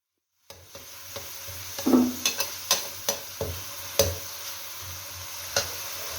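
Rui fish pieces rubbed with turmeric and salt fry in hot oil with a steady sizzle, broken by a series of sharp clicks and taps of a utensil moving the pieces around the pan; no talking.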